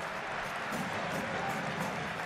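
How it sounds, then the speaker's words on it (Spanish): A crowd in a football stadium applauds in a broad, steady roar of clapping and murmur heard from a distance, with a voice talking over it. "Los aplausos para Javier."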